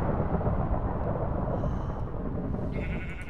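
Rumbling thunder from a storm in the Minecraft video game, a loud continuous low roll that fades slightly toward the end, with a faint bleating sound near the close.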